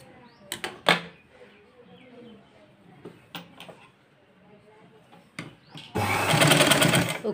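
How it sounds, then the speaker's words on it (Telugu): Sewing machine stitching a blouse, a dense burst of rapid mechanical stitching near the end following a few sharp clicks and handling noises, close and fairly loud. "ఉక్సులు పట్టి కుట్టుకుంటున్నాను."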